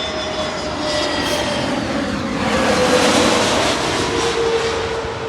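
Airbus A320 airliner passing overhead at Heathrow, a broad steady jet roar with a faint whine that swells to a peak mid-pass and eases slightly, continuous and fairly loud with no talk.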